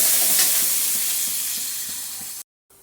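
Onions frying in oil in a pan, a continuous close sizzle with soft regular stirring scrapes, fading slightly before stopping suddenly.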